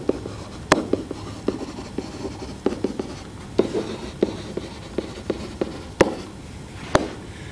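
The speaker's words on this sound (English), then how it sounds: "let's write down our statements and reasons" A pen or marker writes geometry proof statements on a board or paper, producing a close series of irregular scratchy taps and strokes with occasional sharper clicks, no speech over it.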